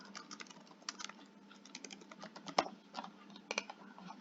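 Fingers type on a computer keyboard in quick, uneven bursts of clicky keystrokes, one sharper key strike standing out, close and fairly quiet with no talking.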